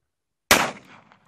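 A single gunshot fired at a target cracks out loud and close, its sharp blast trailing off into a short echo and then quiet.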